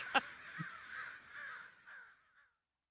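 A crow horn gives one drawn-out caw, sharp at the start and then trailing into a wavering fade, fairly quiet, with a short click near the beginning.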